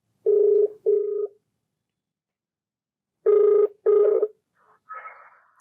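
A telephone rings out from a TV studio set, with two pairs of electronic ring bursts separated by a pause, followed by a fainter tone.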